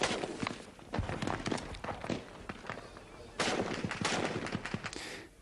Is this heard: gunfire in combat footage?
yes